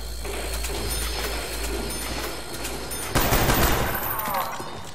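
Rapid automatic gunfire rattles through a round of Call of Duty Black Ops zombies mode, dense and sustained with a steady low rumble beneath, intensifying briefly toward the end.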